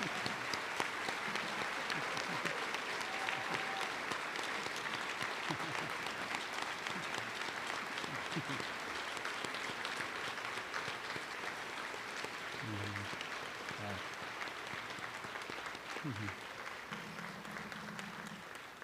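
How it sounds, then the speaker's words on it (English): Long, steady round of audience applause for two honorees at a State of the Schools event, a dense wash of clapping that holds level for nearly twenty seconds, with brief faint voices near the end. "Would you both please stand so we can give you one more round of applause?"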